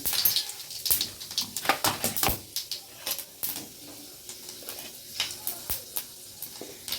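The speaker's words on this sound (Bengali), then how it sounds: "আমি একটু নিজের মতো করে ফোড়ন দিচ্ছি। এতে ফোড়নটা আছে গোটা জিরে, কালো জিরে" Whole cumin and nigella seeds temper in hot oil with bright, irregular crackling and spitting pops over a soft sizzle, close and fairly loud, with several quick bursts in clusters.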